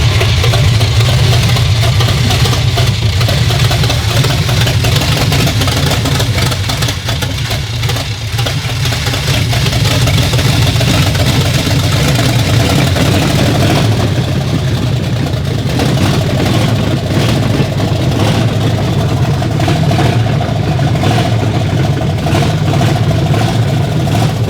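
A BMW E34 engine, being prepped for an off-road build, runs steadily at close range with a deep low rumble throughout, a slight shift in tone partway through, with no talk over it.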